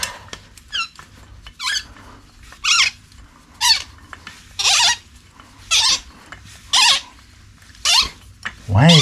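A bolt squeaks sharply as it is tightened into a ground anchor with a 6mm Allen key, about ten evenly spaced high squeals close by, each a short rising chirp.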